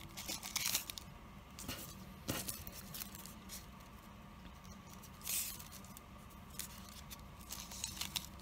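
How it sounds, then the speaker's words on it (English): Scissors snip paper strips for a koinobori carp streamer decoration, giving irregular crisp rustling cuts and papery patter close up in a quiet room. "if you feel like you didn't cut up enough strips, feel free to go back and cut some more"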